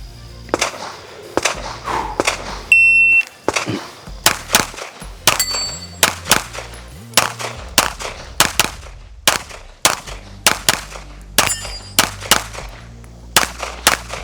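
Pistol gunshots during target shooting practice, loud sharp reports fired in quick strings and pairs with short pauses between, some followed by ringing metallic clangs.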